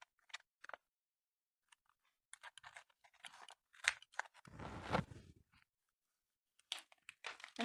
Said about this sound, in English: Cut that with your X-Acto knife.